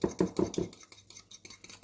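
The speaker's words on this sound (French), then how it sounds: "Vous mélangez tout ça." Cutlery clinks briskly against a bowl while a vinaigrette with sesame seeds is mixed, four quick sharp strikes followed by lighter, quicker scraping taps, close and with no talking.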